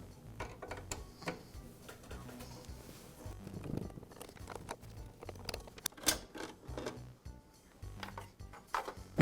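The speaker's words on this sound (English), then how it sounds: "I'll use the wrench that came with the planer to remove the screws." Small metal wrench turning screws to free the dust hood on a DeWALT DW7342 planer, a run of faint, irregular clicks and ratcheting ticks close by in a quiet workshop.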